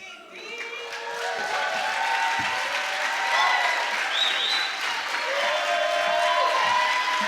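Audience applause for a poet at a poetry event, a steady wash of clapping from a crowd with faint voices and tonal sounds mixed in, holding at an even level throughout.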